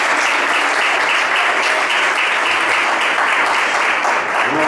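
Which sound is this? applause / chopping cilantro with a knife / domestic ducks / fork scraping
applause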